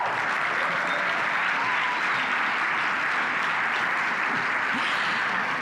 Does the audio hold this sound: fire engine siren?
no